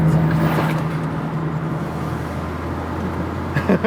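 A Volkswagen Passat B5 W8 engine idles with its exhaust flaps closed, a steady low rumble from the exhaust, close by, with a slight rev near the end.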